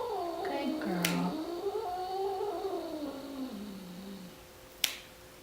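A cat vocalizes during an at-home nail trimming, with long wavering meows and yowls rising and falling through most of the stretch, plus two sharp clicks from the clippers; close and fairly loud.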